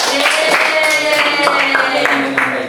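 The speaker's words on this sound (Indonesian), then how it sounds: "Sekali lagi kita tepuk tangan untuk kita semua." A small group claps hands together at the end of a Christian prayer gathering, brisk close clapping mixed with a voice talking over it throughout.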